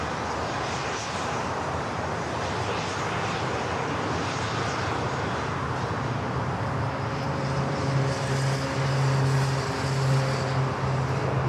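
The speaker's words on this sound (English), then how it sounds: "G650ER coming in from Monterey." Gulfstream G650ER business jet arriving at LAX from Monterey, a steady mid-level jet rush joined late by a rising tonal engine whine as it draws nearer.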